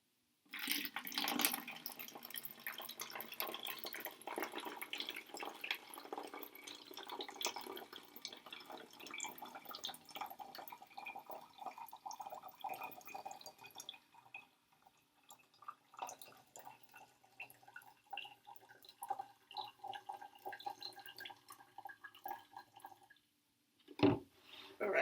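Water pours steadily into a container for a sensory art bottle that will also hold oil. A continuous trickling, splashing stream runs for several seconds, then breaks into scattered drips and intermittent pours.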